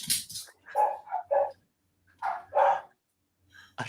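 Several dogs bark in short, loud bursts, with pauses between volleys and a few sharper yips, heard alone and close by.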